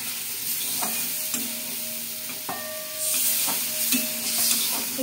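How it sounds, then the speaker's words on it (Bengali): Pointed gourd sautéed with cumin and coriander powder for potol posto, a close hissing sizzle broken by repeated spatula scrapes and knocks against the pan, with a faint ringing tone underneath. "একটু ভালো করে কষিয়ে নিচ্ছি।"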